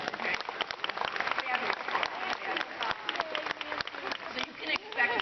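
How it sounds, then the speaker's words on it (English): Crowd applause, a fairly faint and busy patter of many hands clapping together, continuing steadily throughout at a moderate distance. "I heard some applause."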